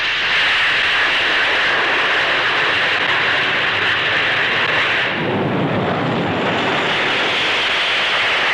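Hawker Hunter jets of the RAF Black Arrows aerobatic team at the Farnborough air show produce a loud, sustained jet roar and whine that swells and shifts as the aircraft pass, with no talk.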